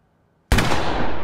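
A single loud handgun shot in The Quarry video game, a sharp sudden blast after near silence, followed by a long, dense roar of echoing decay.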